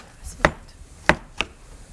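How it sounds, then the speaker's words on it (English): Paring knife chopping mushrooms for a Sicilian pasta sauce, giving three crisp, separate board knocks at an uneven pace, near and moderately loud with no talk over them. "I'm going to go ahead and start chopping this"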